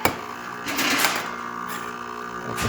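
A Jura automatic coffee machine brews coffee with a steady mechanical pump hum and whir at close range, swelling briefly as the coffee pours.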